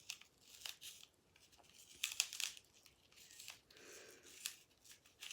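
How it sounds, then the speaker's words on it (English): A knife carves a small hole into a piece of fruit, giving scattered short scraping, cutting and crinkly tearing sounds, quiet and close with pauses between strokes. "carve a little bit of a hole inside of this with our knife"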